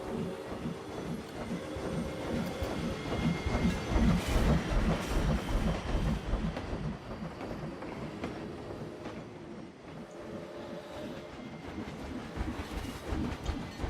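In the Planet Coaster video game, a theme-park train rolls past with a steady rhythmic clatter of wheels on track, moderately loud throughout and with no talking.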